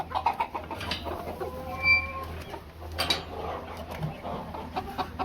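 Nagasaki and silkie chickens cluck and murmur on a small poultry farm, several close birds giving short irregular clucks over a low steady background hum, with no talk.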